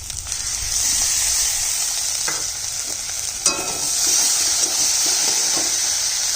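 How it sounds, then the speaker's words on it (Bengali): Steady, close sizzling of Gobindobhog rice frying in a pan, with a few soft scrapes and taps of stirring, and no talking. "চালটা একটু ভাজা হয়ে গেছে"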